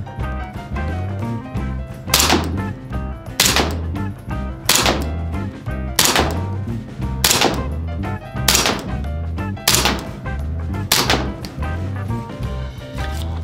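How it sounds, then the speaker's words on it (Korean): A GBLS M1911A1 full-steel gas handgun fires a seven-round magazine, each shot a sharp, evenly spaced crack a little over a second apart. A steady low hum sits underneath the shots. "첫 번째 탄창 7발 테스트 했습니다"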